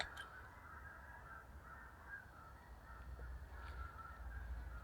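Geese honking in the distance somewhere beyond the fields, a faint chorus of repeated calls carried over steady low rumbling background noise outdoors.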